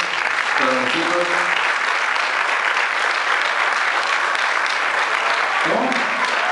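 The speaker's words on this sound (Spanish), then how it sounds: "Un aplauso para los chicos." Sustained, dense applause from an audience after a big band performance, steady and loud throughout, with a couple of brief voices rising over the clapping.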